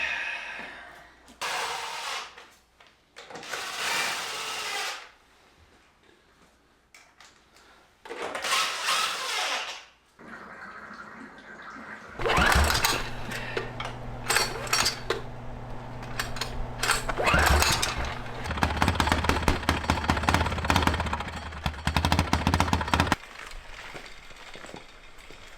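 A homemade diesel-engined motorcycle fires up and runs, first in short loud bursts separated by pauses, then a sustained rough, rattling idle with a steady low hum before cutting out near the end.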